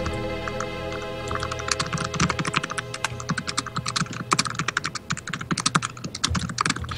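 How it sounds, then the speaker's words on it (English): Rapid, furious typing on a computer keyboard during a Super Mario RPG game stream, a dense run of sharp key clicks with bursts of faster strokes over a steady low background hum. "Furious typing."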